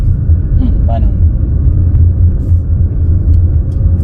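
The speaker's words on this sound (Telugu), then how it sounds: "మీరు ఒకసారి ఇంజిన్ నాయిస్ అయితే నోటీస్ చేయండి" A Mahindra XUV 3XO AX5 AMT car's engine hums as a steady low rumble heard from inside the cabin, with faint incidental sounds over it.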